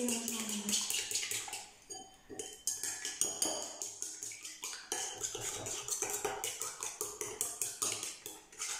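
Chopsticks clatter rapidly against a bowl while whisking crêpe batter, a steady rhythmic clinking and tapping close up, with a brief voice near the start.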